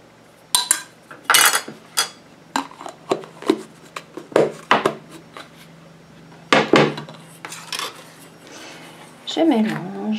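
Small bowl of white clay for a solid shampoo being mixed with a utensil: intermittent scraping and clinking strokes against the bowl, close and crisp, in short irregular bursts with quiet gaps, and a voice speaking near the end.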